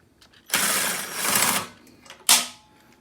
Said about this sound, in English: Oop, drop the bolt.